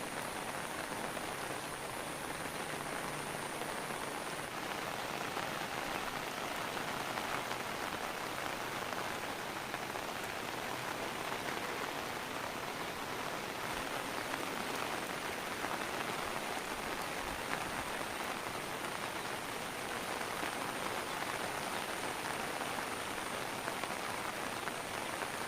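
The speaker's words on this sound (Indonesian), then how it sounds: "Oh, hujan." Steady rain falls on surfaces in a rural Indonesian village, a dense, even hiss of drops that stays constant throughout with no talk.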